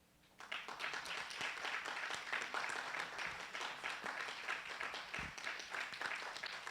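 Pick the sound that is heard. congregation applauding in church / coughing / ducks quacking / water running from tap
congregation applauding in church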